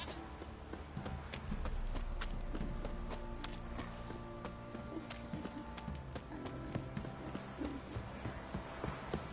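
Horse hooves clip-clop steadily in The Witcher 3, a continuous rhythmic trot under distant ambient game sounds and occasional faint chatter.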